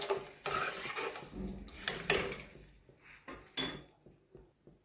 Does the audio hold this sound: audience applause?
no